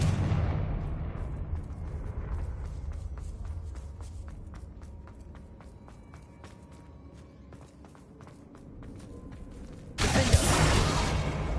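A Confringo fire spell bursts in Hogwarts Legacy: after a long stretch of quiet footsteps and mechanical ticking, a sudden loud, broad blast erupts and keeps roaring to the end.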